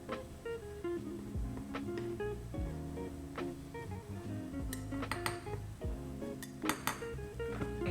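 A knife scrapes excess flour off a measuring cup over a mixing bowl while making no-knead bread, giving soft repeated scrapes and light metallic clinks and taps, close and quiet, with no voices.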